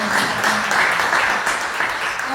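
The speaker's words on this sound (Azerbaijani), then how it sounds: "Bu anaya bir alqış istəyirəm." Applause breaks out from an audience honouring a mother at a closing ceremony in Baku, a steady, dense patter of clapping sustained throughout without a clear pause.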